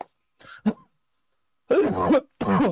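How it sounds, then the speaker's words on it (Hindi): A couple of short coughs, then a longer bout of harsh, throaty coughing, close and alone with quiet gaps between. "तो मेरी खांसी नहीं खत्म हो रही।"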